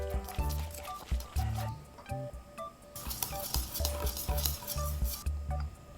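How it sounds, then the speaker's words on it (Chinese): Room-temperature eggs and yolks are stirred into batter in a bowl, giving rhythmic clinking and scraping of a whisk against the bowl, steady and close, with soft wet sloshing. "再分次加入常温的鸡蛋和蛋黄，每一次都搅拌均匀以后"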